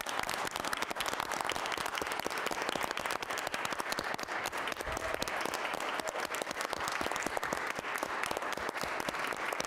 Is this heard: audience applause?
yes